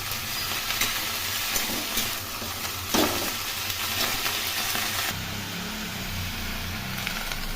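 Bori, fried lentil dumplings, frying in oil with winter vegetables for a vegetarian curry, a steady close sizzle with occasional stirring scrapes, no talk.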